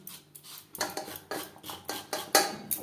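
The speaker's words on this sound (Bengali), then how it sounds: "এভাবে একটু চেঁচে নেব" A peeled radish being scraped with a blade, a series of about eight rhythmic rasping strokes, close and fairly loud, with no talk.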